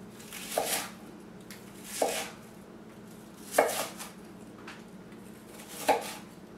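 A knife chops onion on a board in five sharp, evenly spaced strikes about a second apart, each crisp and close, with quiet pauses between and no talking.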